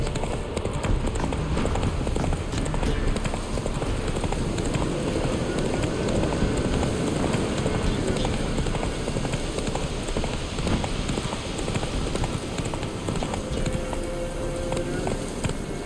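Horse hooves gallop at a fast, steady pace in The Witcher 3: Wild Hunt, a rapid drumming of clops over rustling, rain-like ambient noise, continuous and fairly loud throughout.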